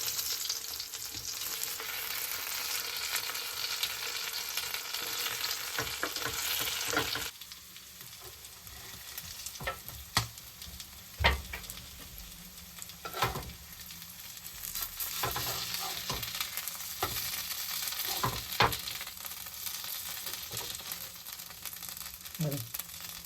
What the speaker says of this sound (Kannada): ಸೂಪರ್ವಾಗಿ ಫ್ರೈ ಆಗ್ತಿದೆ ನೋಡಿ, ಯಾವ ಥರ ಫ್ರೈ ಆಗಿದೆ